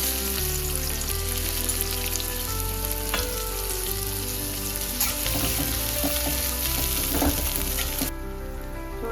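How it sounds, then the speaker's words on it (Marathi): Onion dropped into hot oil in a pan for bheja fry, giving a loud, dense, continuous sizzle with crackling spatter that runs throughout and cuts off abruptly near the end, with no talking. "तेल गरम झालेलं आहे. मी कांदा टाकते."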